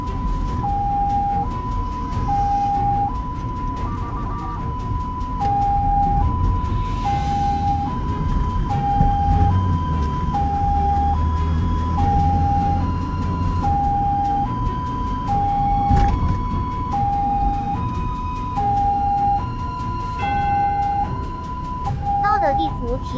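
An ambulance's two-tone siren alternates high and low in a steady, unbroken cycle, heard from inside the vehicle during morning rush hour over a low road rumble, with an occasional voice.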